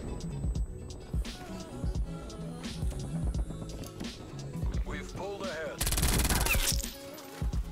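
Call of Duty Cold War gameplay fills with rapid gunfire bursts and a loud grenade explosion with a sharp wide burst near the end, amid constant game noise and music.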